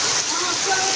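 Heavy rain pours down in a village as a dense, steady, close rushing hiss over one brief moment.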